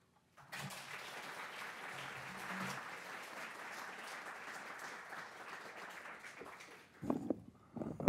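Audience applause welcoming poet Brandon Shimoda at a Lunch Poems reading, a sustained round of clapping from a crowd lasting several seconds, fading out before a speaker begins talking at the end.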